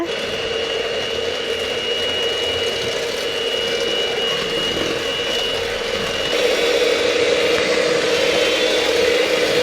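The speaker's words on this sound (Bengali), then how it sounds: "আমরা এখানে বিটারে তিন স্পিডে দিয়ে আমরা বিট করছি" An electric beater set to speed three whips pound cake batter with a steady, mid-pitched motor whir that grows slightly louder partway through, continuous and close with no talking.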